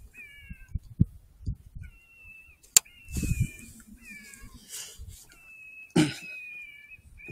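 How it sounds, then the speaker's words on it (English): A bobcat in Iowa gives repeated short, raspy high-pitched calls with gaps between them, interrupted by a few sharp clicks and rustling bursts, heard at moderate distance. "Definitely a cat."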